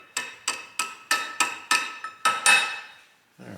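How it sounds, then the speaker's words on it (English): A hammer strikes a barrel vise during an upgrade, landing about eight sharp metallic blows in a steady rhythm, close and clear with no talking. "Need a hammer."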